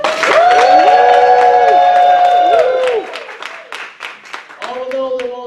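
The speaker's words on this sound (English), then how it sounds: "let me hear an applause that rolls and raises the ceiling in this place" At a reunion sing-off, a crowd claps densely under loud sustained shouting and cheering voices, then thins into scattered claps and calls before the cheering swells again.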